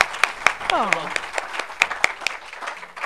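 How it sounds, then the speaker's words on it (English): Audience applause at a live acoustic music session, a light patter of claps with sharp individual hits, heard under talking and a brief exclamation. "I'm going to give you a round of applause myself"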